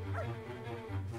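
A brief dog bark from the video game Pac-Man World 2: two quick woofs sit close together over low, steady game background sound.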